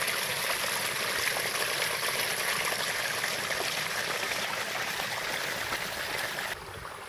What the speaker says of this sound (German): Ja, das Wasser kommt schön hier an.